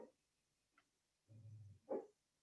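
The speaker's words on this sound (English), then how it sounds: "if you hear the yipping and barking in the background, she's dreaming" A sleeping dog dreaming lets out faint, distant sounds: a brief high yip, a low muffled grumbling whimper, then a short soft bark, all quiet in an otherwise still room.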